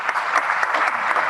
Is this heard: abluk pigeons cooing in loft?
no